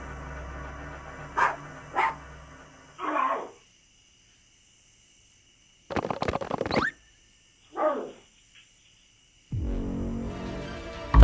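Sixteen-year-old family dog barking at a bear at night, caught on a security camera: a few sharp, separate barks with silent gaps between them, moderately close, followed by a longer stretch of noise at the end.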